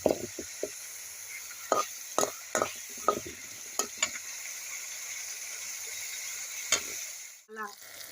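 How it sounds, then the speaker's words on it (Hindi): Masala paste frying in hot oil for a matar paneer curry, a steady sizzle broken by sharp scraping stirs and spoon knocks against the pan, close up, with a brief voice near the end. "तब तक हम फ्राई करेंगे जब तक कि इस मसाले से तेल ना अलग होने लगे।"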